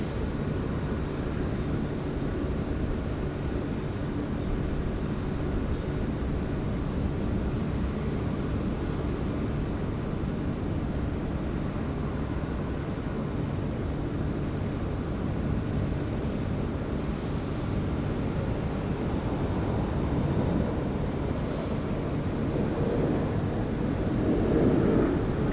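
An airliner on final approach to runway 16 right at Sydney Airport produces a steady, distant jet roar with a faint high whine, swelling slightly louder toward the end, no talk.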